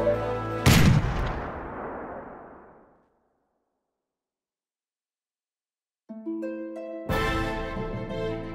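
Golden guns fired in the arcade shooter Deadstorm Pirates: a loud sharp blast with a decaying rumbling tail, then silence, then bright tonal game effects and another burst of gunfire-like noise.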